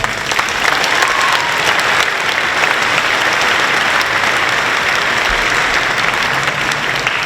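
Sustained, dense applause from a large audience at a high school awards day ceremony, steady and loud throughout with no pauses and little talk.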